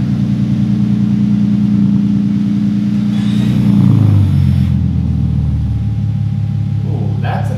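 A 2022 Toyota Tundra fitted with a Carven exhaust idles with a deep, steady rumble, then the engine note drops and settles into a lower throb, loud and close, with some talking over it.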